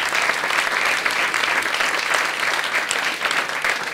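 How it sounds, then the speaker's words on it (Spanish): An audience breaks into sustained applause for a guest, the prosecutor in the case, at a memorial event: dense, even clapping from many hands filling the room without pause. "Por favor, un aplauso."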